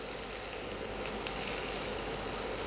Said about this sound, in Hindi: तो बहुत ज़्यादा इसे फ्राई नहीं करनी है, बस हल्का एक रेडनेस आ जाए, बस उतना फ्राई करनी है।